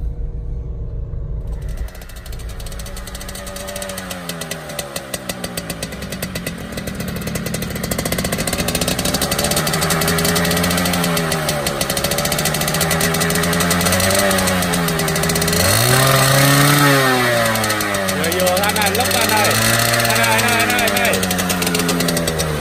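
A Suzuki Xipo 2000 motorcycle with a freshly rebuilt engine idles with a rattling, clattering mechanical rhythm, then revs repeatedly in rising and falling surges, loud and close throughout.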